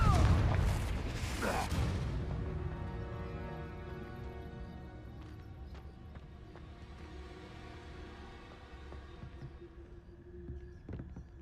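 A Confringo blasting spell from Hogwarts Legacy goes off as a loud, close explosive boom that decays over a couple of seconds into a lingering rumble beneath a sustained musical score.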